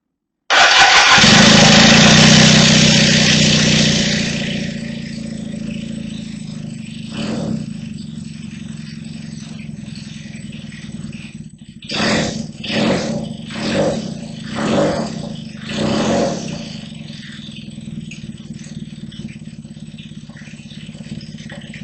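A Kawasaki KZ400 street tracker motorcycle engine cranks and catches loudly, settles into a steady idle, then gives a quick series of about five throttle blips before dropping back to idle.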